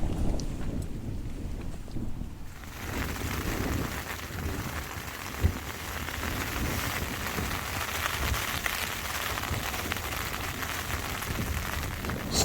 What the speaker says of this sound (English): The wind just picked up all night.